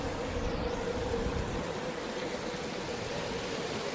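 A wide, shallow river rushes steadily over slippery rocks, a broad even roar of tumbling water, with no voices.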